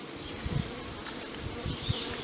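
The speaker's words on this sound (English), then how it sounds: "swarm of bees that has taken up residence in the corner here" A swarm of bees buzzes steadily in the joint between a stucco house corner and the roof, a continuous, fairly faint hum with no voices.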